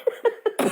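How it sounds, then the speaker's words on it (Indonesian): A person coughs four times in quick succession, close and loud, with the last cough rougher and breathier. "Batuk mahal itu mah batuk mahal."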